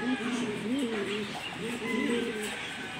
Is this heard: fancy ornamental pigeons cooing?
yes